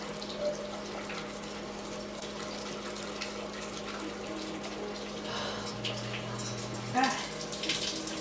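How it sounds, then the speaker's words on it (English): Steady running water leaking inside an apartment, like a tap or pipe flowing, continues throughout at moderate level with a brief louder splash near the end. "Water is leaking in my apartment."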